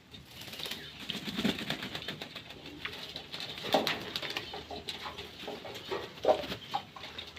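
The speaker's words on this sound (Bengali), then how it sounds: "পায়রাগুলো কী সুন্দর চান করছে দেখুন" Several pigeons bathe in water, with splashing, pattering and bursts of wing flapping mixed with soft coos, a busy, moderately distant texture with louder flurries now and then.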